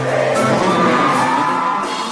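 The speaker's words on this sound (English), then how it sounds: "That there is the sound of the crowd during my concert." Crowd at a live concert at the Lunario in Mexico City, loud cheering and whooping with yells and shouts blending into a dense, continuous roar.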